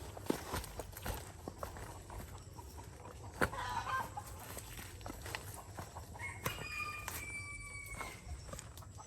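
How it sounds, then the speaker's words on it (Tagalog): Chickens clucking outdoors in a rural village, several soft clucks and short calls mixed with footsteps and background noise, fairly faint and distant. "May mga manok."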